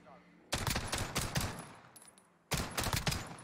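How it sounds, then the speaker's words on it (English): Two bursts of rapid automatic gunfire in Warzone, loud and close, each lasting over a second with sharp repeated cracks, separated by a brief quiet gap. "I'm getting shot at, yeah."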